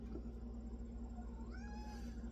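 A house cat meows, a short rising and falling call near the end, faint against a steady low background hum indoors.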